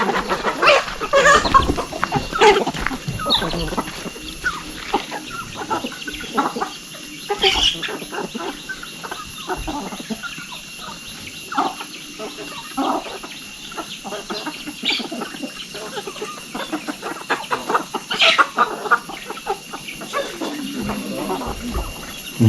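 Chickens cluck and call around a rural village in Laos early in the morning, with intermittent close clucks and squawks over a continuous background hum, plus a few sharper louder calls.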